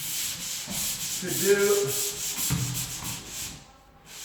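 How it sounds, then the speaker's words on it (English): Hand sanding on a flat surface in a high area makes rough, rhythmic rubbing strokes, close and fairly loud, with a few brief words spoken partway through. "all of this sanding"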